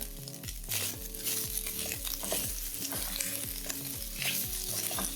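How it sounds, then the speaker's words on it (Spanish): Bacon and sausage fry in a pan for lentil soup, giving a loud, continuous close sizzle with stirring scrapes through it. "Vaya friendo con tocino y salchicha."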